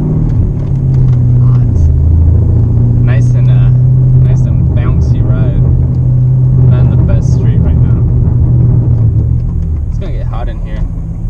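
A Ford Mustang drift car on a bouncy ride with a rebalanced rear end, its steady loud engine drone and road rumble filling the cabin, with a person talking over it throughout.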